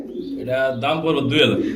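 A male pigeon coos in soft, rounded throaty notes, close by, with a few chirps mixed in.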